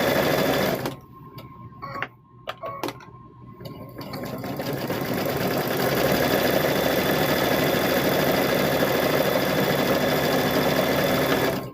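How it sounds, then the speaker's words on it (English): A sewing machine stitches a strip onto a chicken-themed quilt, starting and stopping in short bursts, then running in a long, steady, close whirring stretch. "we are going to sew a strip down here"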